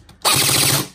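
An upgraded A&K M4 airsoft electric rifle fires a short, sharp, close burst lasting well under a second after a brief quiet moment.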